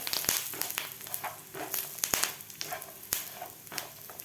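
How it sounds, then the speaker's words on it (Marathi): Garlic and curry leaves frying in a pan of hot oil for garlic chutney give a close, busy sizzle broken by frequent sharp crackles and pops. "लसूणसुद्धा आपल्याला यामध्येच थोडासा फ्राय करून घ्यायचा आहे"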